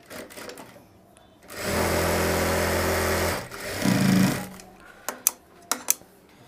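A sewing machine stitches a shirt with a loud, steady mechanical whir lasting under two seconds, then a brief second burst of stitching, followed by a few sharp clicks and taps.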